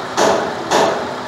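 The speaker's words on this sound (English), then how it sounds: "Sorry about all the hammer noise in the back. This is a working shop." Two loud metallic hammer blows land about half a second apart in a working car repair shop, near and sharp, each with a short ringing decay, with no talk over them.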